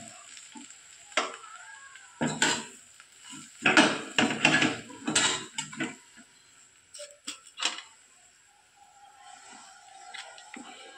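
Cabbage and besan sabzi being stirred in a pan, with a spoon scraping and clinking against the metal in irregular bursts and a faint sizzle underneath, then quieting toward the end.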